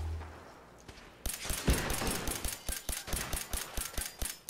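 A gun in Fallout 4 is emptied in a rapid string of about fifteen sharp, evenly spaced shots. The burst starts abruptly after a quiet lead-in and stays loud and close throughout.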